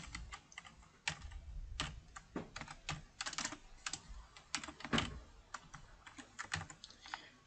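Quick, uneven typing on a computer keyboard while running a command to recover data from a damaged external hard drive, with crisp close key clicks and a few firmer keystrokes like Enter.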